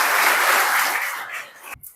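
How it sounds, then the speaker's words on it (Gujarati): Audience applause welcoming a professor to a career guidance session at a computer class, a dense burst of many hands clapping loudly for under two seconds before cutting off. "તો સૌથી પહેલા તેમને આપણે તાળીઓથી વધારી લઈએ."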